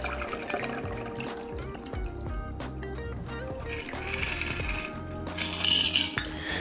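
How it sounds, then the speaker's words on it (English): A shaken Corpse Reviver No. 2 cocktail poured from a shaker into an absinthe-rinsed glass: clinking ice and metal, then a brief liquid trickle and splash toward the end, close and moderately loud. "Now we have our shaken up cocktail, and we'll pour it in the absinthe wash glass."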